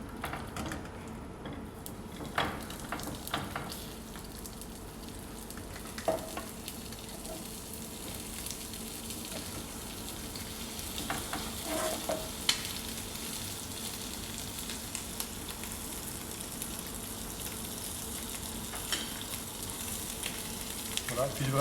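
Pigeon pieces fry in oil in a pan, a faint, steady sizzle with scattered small crackles and pops running throughout.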